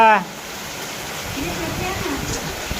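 Heavy rain pours outside a village house as a steady, dense broadband roar, with a voice speaking faintly over it.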